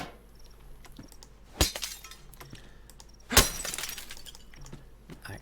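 Glass window in the DayZ video game struck with an axe, shattering in two sharp, loud crashes a couple of seconds apart, each followed by tinkling debris.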